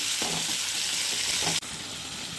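Steady sizzling of onions and tomatoes frying in a pan for okra pachadi, a continuous hiss with faint stirring scrapes, close and fairly loud throughout.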